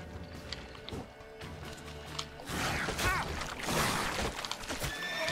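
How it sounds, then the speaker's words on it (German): A panicked horse whinnies in The Witcher 3: Wild Hunt amid game effects and splashing, the neigh rising over a busy mix of music and ambient sounds, fairly faint overall. "Pferd in Panik, dann war es das für mich."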